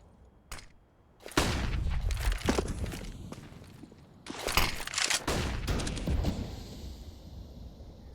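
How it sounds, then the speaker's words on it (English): AWP sniper rifle shots in Counter-Strike on the Dust 2 map, mid area, heard as several sharp loud cracks among other gunfire and footsteps, with a few seconds of quieter ambience between bursts. "While this AWP has been firing off in mid"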